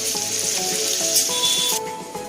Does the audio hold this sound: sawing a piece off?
no